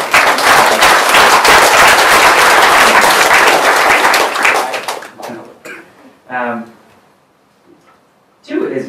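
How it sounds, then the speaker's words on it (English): A live audience breaks into dense, loud applause for about four seconds, which then thins out and fades as a voice resumes speaking. "Round of applause for them as well."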